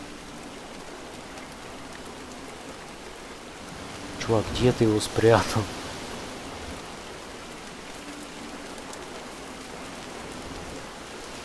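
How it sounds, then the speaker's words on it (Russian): Steady rain falls in the video game Montague's Mount, an even hiss of drops running throughout, briefly joined midway by someone speaking over it. "То моросящим, то усиливающимся дождем."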